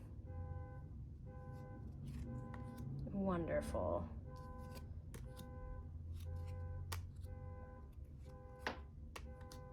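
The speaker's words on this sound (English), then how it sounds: "I might pause until that car alarm stops." A car alarm sounds outside, repeating its tones in a regular pattern at a distance, with a brief burst of horn honking partway through and a person speaking quietly nearby.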